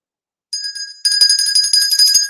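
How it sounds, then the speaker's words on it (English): A talk show host's hand bell rung close up, one bright ring followed by a quick run of rapid jingling strikes after a moment of silence. "This is the levity bell and the decorum bell."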